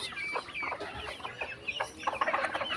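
A flock of chickens clucks busily while being fed, with soft overlapping calls that come near and steady and rise to a denser burst toward the end.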